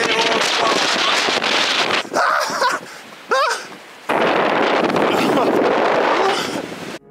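Strong outdoor wind buffets the microphone in loud, roaring gusts that drop out briefly before surging back, with no one talking.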